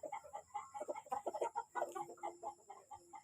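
A yellow-legged Golden Boy gamefowl rooster clucks close by in a rapid, uneven run of short throaty notes, with one longer drawn call partway through.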